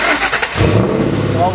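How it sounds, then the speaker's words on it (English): A Ford Mustang GT cold-starting: a brief crank, then the engine catches with a loud, deep rumbling idle close by, while a person talks over it. "How many cold starts can we put in one video?"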